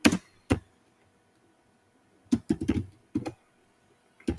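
Bursts of typing on a computer keyboard while writing SQL Server table code, with short clusters of key clicks separated by silent gaps, close and fairly crisp.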